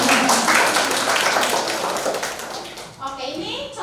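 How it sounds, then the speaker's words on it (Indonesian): A classroom claps hands together after a student's answer in a lecture, a dense burst of clapping that tails off, with voices starting up near the end. "Tepuk tangan dulu dong."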